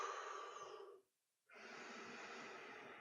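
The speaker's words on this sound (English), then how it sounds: "In through the mouth, out through the nose." One person breathes in through the mouth and out through the nose as a calming exercise before a roller coaster ride: a long airy breath, a second of silence, then another steady breath, soft and close.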